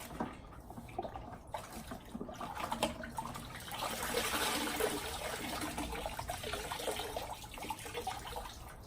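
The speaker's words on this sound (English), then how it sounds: "rinse it in the clean water, the one that doesn't have the Optimum No Rinse" A wash cloth is swished and rinsed in a bucket of clean water during a rinseless car wash, giving a soft, continuous slosh and trickle that swells midway, close but quiet.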